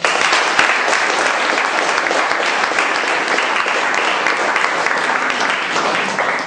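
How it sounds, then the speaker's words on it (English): Steady audience applause at a Toastmasters club meeting, dense continuous clapping from a room of people that holds evenly loud for several seconds, with no talking over it. "I must say a big round of applause for Chandan"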